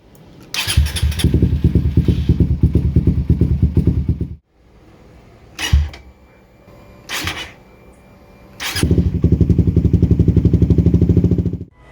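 A Suzuki GSX 150 motorcycle engine with its auto start system idles loudly and steadily, cuts out abruptly, gives a couple of brief blips, then fires back up and keeps idling. There is no talk.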